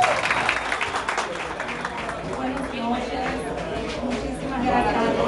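A crowd applauds steadily at a business opening, clapping sustained and fairly close, mixed with chatter and voices throughout.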